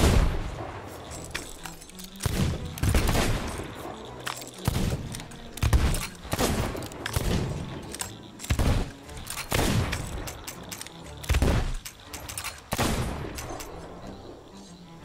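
Repeated gunfire from weapons in the pirate video game Sea of Thieves: loud, close shots in irregular bursts with pauses between them, each blast sharp and booming, with no talking.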